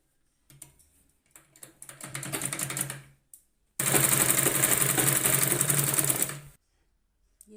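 A sewing machine topstitches a folded blouse strip, running in two bursts: a short, uneven start, then a longer steady whirring run, close and loud.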